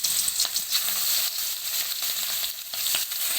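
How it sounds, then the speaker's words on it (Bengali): Prawns coated in salt and turmeric fry lightly in hot oil, producing a bright, continuous close sizzle with small crackling spikes and no talking. "হালকা ভাজবো, বেশি ভাজবো না, লাল লাল করে হালকা ভেজে নেব"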